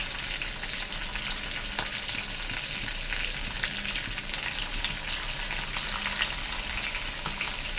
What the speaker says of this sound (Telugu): అవి అయితే వేగుతున్నాయి. ఇప్పుడు అందులోనే కరివేపాకు, అలాగే పచ్చిమిర్చి కూడా వేస్తున్నాను ఫ్రెండ్స్